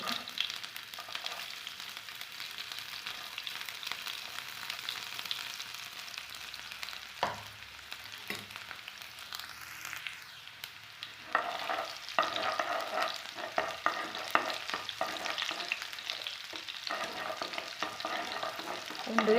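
Steady sizzling of garlic frying in hot oil with mustard seeds and cumin, with occasional stirring scrapes in the pan, no voices.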